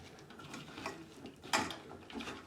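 Coriander powder being mixed into ingredients in a bowl, heard as quiet close scraping and clinking of a spoon against the dish, with one sharper knock midway; no talking.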